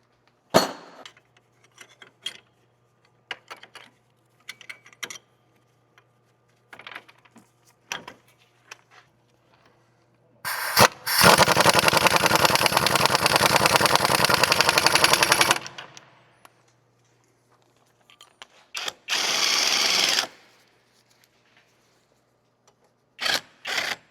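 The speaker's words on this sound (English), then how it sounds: "All right, we are gonna have to hold that with the wrench." A wrench tightens a sway bar link nut on a Dodge Grand Caravan, with scattered close metallic clicks and clinks, then a loud sustained rattling buzz of a power tool for several seconds and a second shorter burst.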